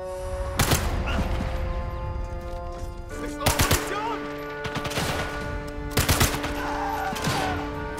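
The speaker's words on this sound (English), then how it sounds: "Who the hell is shooting from that side?" Bursts of gunfire from the video game Sniper Elite 5, several loud broadband volleys spaced a few seconds apart over a steady background of game ambience and sustained tones.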